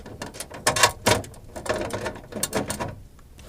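Bolts are threaded and tightened by hand to fix a custom fusebox mount onto tabs in a Honda CB7 engine bay, giving a close run of quick metallic clicks and ratcheting taps with brief pauses between bursts.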